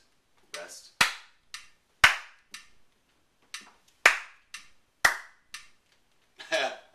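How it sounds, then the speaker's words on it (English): Hands clap a counted rhythm in a music lesson, single crisp claps spaced about a second apart with gaps between, close and clear, interleaved with a voice counting aloud. "Let's count, let's clap it."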